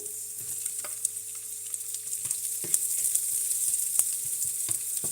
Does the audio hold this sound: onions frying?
yes